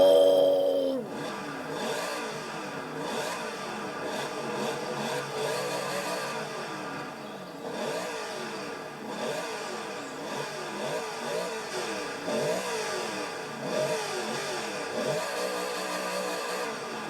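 A Corvette C1 engine in Forza Horizon 4 revs repeatedly, rising and falling in throaty surges across the whole stretch at a fairly steady level, with no talking.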